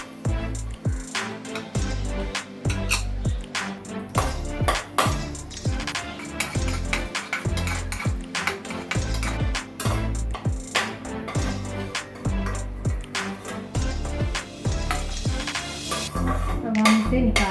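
Dry fruits shallow frying in a tablespoon of ghee in a pan for seviyan kheer, with frequent close clinks and scrapes of a metal spoon against the pan over a soft sizzle, continuing steadily throughout.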